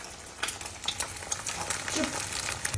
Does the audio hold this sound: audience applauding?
no